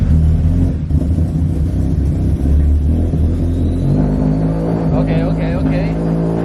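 A rebuilt turbocharged Subaru BRZ engine runs steadily nearby with a loud, droning rumble that rises slightly in pitch toward the end, while people talk over it.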